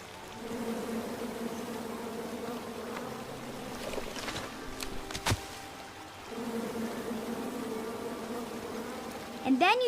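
A swarm of angry bees buzzing in the video game King's Quest, a steady droning hum that dips briefly midway, then returns, with a couple of sharp clicks and a rising chirp at the end.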